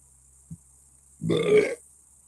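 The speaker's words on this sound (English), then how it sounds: "I burped" A single close, loud human burp lasts about half a second and is preceded by a faint tap in an otherwise quiet room.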